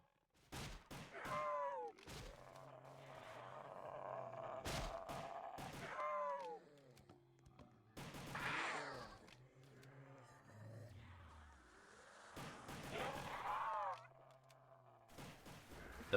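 Gunfire from a weapon in the Roblox zombie game Project Lazarus: loud separated shots with reload clatter and groaning zombies in between, repeated over several bursts.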